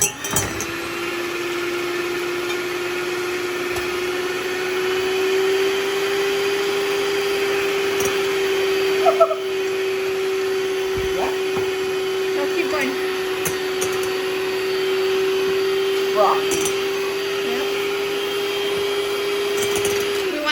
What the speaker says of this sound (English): My son wanted to help out with the mixing, so he's gonna mix the egg whites first